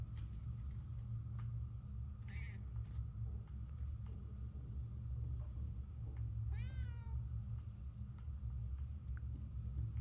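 A cat meows once, clear and fairly close, in the video game Murdered: Soul Suspect, over a steady low ambient rumble with a few faint ticks.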